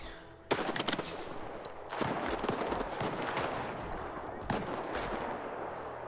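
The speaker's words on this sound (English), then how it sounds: "Who's out there shooting?" Gunfire from other fighters in the S.T.A.L.K.E.R. 2 video game: loud bursts of automatic fire in several rapid volleys, separated by short gaps, with echoing reports trailing after each burst.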